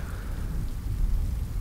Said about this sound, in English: These Texas storms, they can be pretty wild.